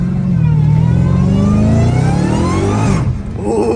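A Dodge Hellcat Redeye engine revs hard while drifting, a loud close roar whose pitch climbs steadily before a brief drop and recovery near the end.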